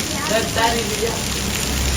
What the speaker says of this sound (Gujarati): ફૂલ વરસાદ ચાલુ થઈ ગયો ભાઈ